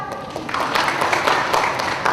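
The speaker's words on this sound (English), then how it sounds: "Give yourselves a clap." An audience at a live show claps briefly, scattered applause swelling after a quiet start and continuing at moderate level for about two seconds.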